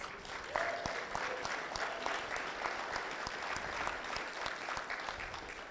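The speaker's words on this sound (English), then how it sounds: "Another round of applause." Audience applause at a business gathering honoring an energy company leader, a steady wash of many hands clapping at moderate distance, continuous and even throughout with no talk over it.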